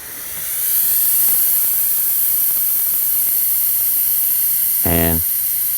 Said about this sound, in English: I'm bleeding the air out of the regulator